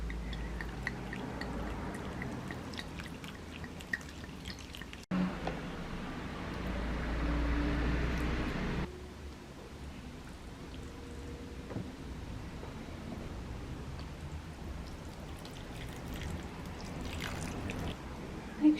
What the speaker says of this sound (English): now let's give these plants a good watering through.